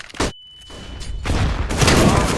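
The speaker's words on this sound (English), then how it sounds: "Throwing a flashbang!" A flashbang grenade goes off in the game CS:GO: a sharp loud bang, then a high ringing tone that holds for about a second, followed by a rising rush of gunfire and blasts.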